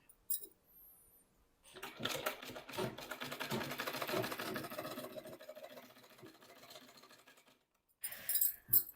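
A sewing machine stitches lace onto a suit, running in one steady rapid burst of several seconds after some quiet handling, then a brief second spurt near the end.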